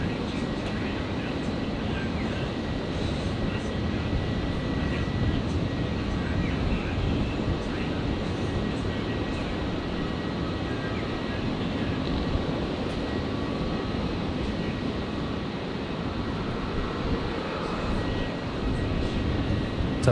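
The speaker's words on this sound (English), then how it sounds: "the final aircraft of today's show is going to be the Qantas Dreamliner, flight to nowhere" A Qantas Boeing Dreamliner jet roars steadily at Brisbane airport on New Year's Eve, a broad, even engine rumble holding for about twenty seconds with no break.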